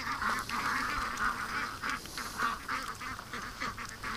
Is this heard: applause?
no